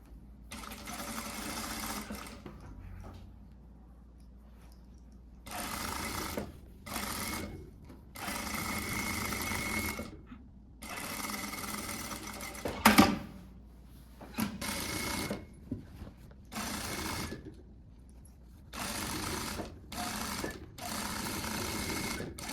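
Domestic sewing machine running in bursts of a few seconds as it stitches the side seams of a blouse, separated by short pauses, close and fairly loud with no talk.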